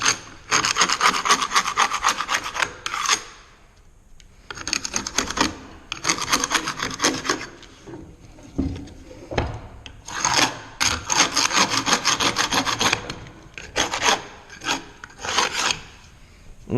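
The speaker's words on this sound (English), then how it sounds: "And we're going to scrape this off." A hand scraper rasps dried glue off a wooden board for a herringbone box, in repeated bursts of back-and-forth scraping strokes with short pauses between, close and fairly loud.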